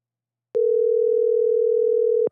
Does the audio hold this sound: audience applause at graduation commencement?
no